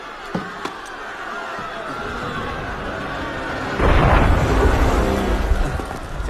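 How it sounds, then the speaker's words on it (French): In Assassin's Creed Unity, a deep boom of a cannon shot erupts midway through a bed of restless crowd murmur, rumbling on for a couple of seconds. "C'était un coup de canon."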